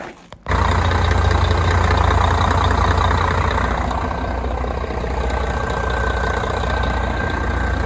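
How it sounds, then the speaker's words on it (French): A Van Hool bus with a gearbox under repair and a water leak, started directly at the rear: the engine catches abruptly and settles into a loud, deep, steady idle with a faint whine, no voices. "Et là, on va démarrer et on va voir si les vitesses passent bien."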